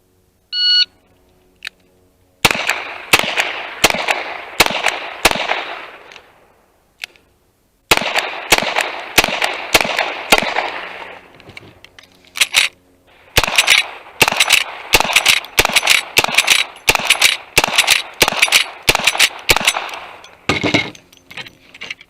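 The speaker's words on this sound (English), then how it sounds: "first up, guns of the Old West, we'll do pistols, rifle, and then shotgun" Old West guns, pistols then a rifle and a shotgun, firing in long rapid runs of loud sharp shots with brief pauses between strings, a beep sounding at the start.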